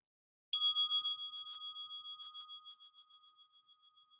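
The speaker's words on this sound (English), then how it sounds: "So here we go with the bell." A meditation bell struck once to open a short sitting practice, a clear bright ring with steady overtones that sounds alone in silence and slowly fades over several seconds.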